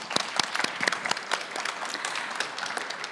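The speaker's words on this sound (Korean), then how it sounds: "다시 한번 큰 박수 부탁드립니다" Audience applause at a 2023 startup open innovation talk show at the Seoul Center for Creative Economy and Innovation, steady scattered clapping from a modest crowd with sharp individual claps standing out, fairly soft and even throughout.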